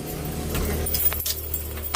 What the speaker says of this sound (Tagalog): Bubuksan natin ng susi ng bahay.